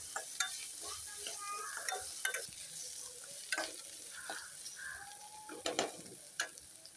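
Chopped onions and slit green chillies sauté in a hot oiled pan, a steady sizzle broken by repeated scrapes and knocks of a stirring spoon against the metal, close and moderately loud, with no talking.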